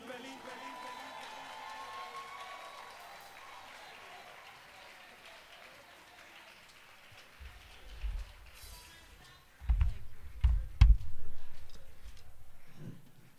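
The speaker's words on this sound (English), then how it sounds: "help me with a big round of applause to welcome Dr." Audience applause welcomes a speaker at a tenth-anniversary concert, a soft, distant wash of clapping that later gives way to louder, closer thumps and bumps near the end.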